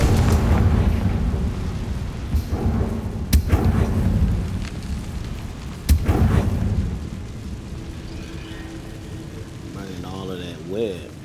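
A Confringo fire spell explodes in Hogwarts Legacy on PS5, a loud booming blast followed by a second sharp impact and rumbling game effects, with a voice speaking over it.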